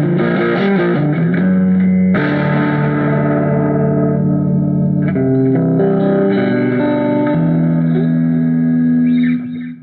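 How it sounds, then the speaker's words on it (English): Electric guitar through a Positive Grid Spark 40 amp on a setting with echo, reverb and added gain, chords ringing out continuously and loudly with a long tail and dense harmonic sustain, no talking. "you can hear echo and reverb on this setting as well, and there's more higher gain on top"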